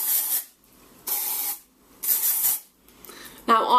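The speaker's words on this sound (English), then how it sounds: "You don't want to spray it too close to your hair, because then it will just clump." A hairspray aerosol can hisses in three short bursts with pauses between, close up, followed by a voice speaking briefly at the end.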